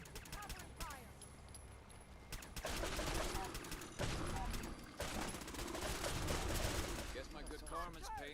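Fallout 4 battle in fog: sustained bursts of rapid gunfire from several weapons, loud and dense, swelling and continuing for several seconds, with shouted voices mixed in during the firefight.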